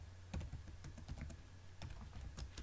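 Keys clatter on a computer keyboard while data is entered into an Excel petty cash spreadsheet, a quick irregular run of close, crisp taps with a brief pause midway and a faint steady hum beneath.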